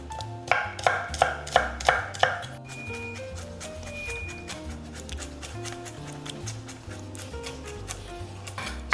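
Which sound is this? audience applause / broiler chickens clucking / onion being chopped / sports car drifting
onion being chopped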